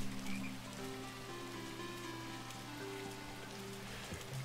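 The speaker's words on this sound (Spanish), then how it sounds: "Está lloviendo." Steady rainfall patters on surfaces in the farming and fishing video game Seablip, a constant soft wash running throughout alongside low droning tones from the game's ambience.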